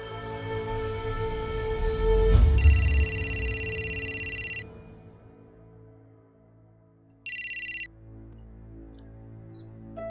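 A telephone rings in a Pakistani drama scene: a loud electronic ring lasts about two seconds, then after a pause it rings again briefly, over low background music.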